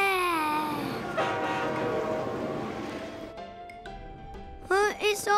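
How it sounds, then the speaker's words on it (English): A cartoon train speeds along with a steady rushing rumble and sustained horn-like tones, close and fairly loud, ending with a few brief vocal sounds. "we're going to sleep in the train. Wow, look how super fast we're going, Gaspard."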